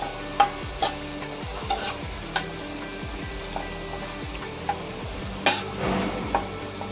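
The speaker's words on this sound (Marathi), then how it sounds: "थोडंसं ब्राऊन होईपर्यंत त्याला आपण तेलामध्ये तळून घ्यायचं आहे." Onions frying in hot oil for mutton biryani, a soft continuous sizzle broken by repeated scraping and clinking strokes of a spoon stirring against the pan, close up and without talk.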